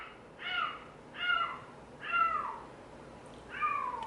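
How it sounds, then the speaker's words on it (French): A cat meows loudly four times in a row, drawn-out wailing yowls spaced about a second apart, close and alone over a quiet background. "Il y a un chat qui hurle là."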